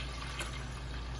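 Water being added to a besan and yogurt kadhi mixture, a steady close pour running for about a second with no talking.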